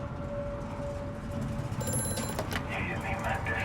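A telephone rings inside the dark horror game Amnesia: A Machine For Pigs, a steady electronic ring under continuous low ambient drone, with someone talking over it.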